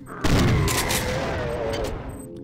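A frag grenade in System Shock 2 goes off in one loud, close blast with a heavy low thump, then a rumbling, crackling tail that fades over about two seconds.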